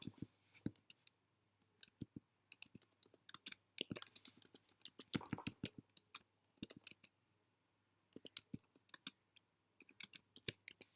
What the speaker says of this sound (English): Let me type it just a second.